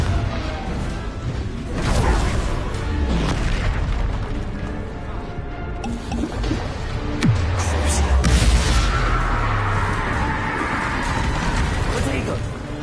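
Confringo spell explosions in a Hogwarts video game land as several booming blasts with whooshing bursts over steady game noise, while a voice shouts over the action.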